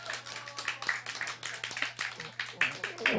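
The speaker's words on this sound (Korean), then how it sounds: "다시 한번 응원의 박수를 해주시기를 바랍니다" Church congregation clapping in encouragement during a Sunday service, a fairly quiet, uneven patter of hands with a steady low hum underneath and talk mixed in.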